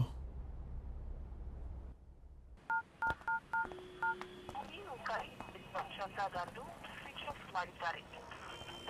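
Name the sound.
phone call to a switched-off phone, from a movie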